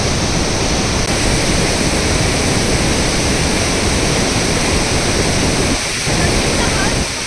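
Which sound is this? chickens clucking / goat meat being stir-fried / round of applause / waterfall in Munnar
waterfall in Munnar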